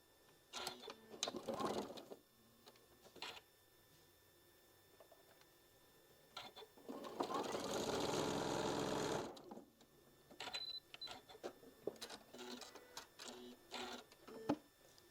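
Table runner pieces are sewn together on a sewing machine in a short steady burst of stitching, close by, surrounded by quiet handling clicks, rustles and a few brief earlier machine spurts.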